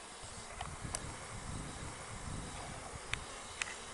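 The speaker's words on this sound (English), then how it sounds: "it's just a huge clump of bees in the bottom of the box." A soft, steady buzz of a large clump of bees in a box hums faintly throughout, with a few light taps and clicks over the drone.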